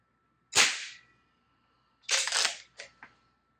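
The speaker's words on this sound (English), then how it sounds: "This Baikal is a good shooting gun, though." Two loud, sharp shotgun reports from a Baikal fired at a target, the first alone and the second followed by quick echoing cracks, with no talking.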